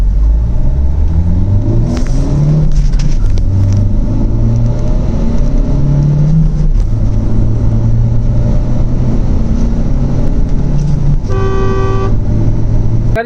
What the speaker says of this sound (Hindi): देखते हैं कि कितने देर में 0 to 100 जाती है।